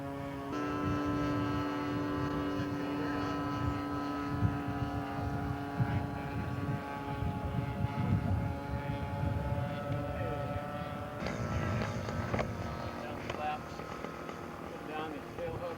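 A scale model carrier aircraft with flaps and tail hook lowered drones past at an air show, its engine a steady buzzing tone that shifts pitch as it passes, under continuous commentary over a loudspeaker.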